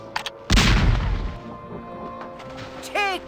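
A cannon in The Curse of Monkey Island fires with a single loud, close boom that rolls off into a decaying rumble, followed later by a short rising whistle-like effect over faint background music.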